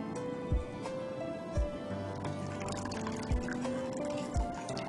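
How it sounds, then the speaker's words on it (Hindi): Whey water poured off fresh paneer curds, a soft trickling liquid sound with a few low thumps at intervals and faint background hum. "छेदा का पानी निकालिए, तो पूरा मत निकालिए"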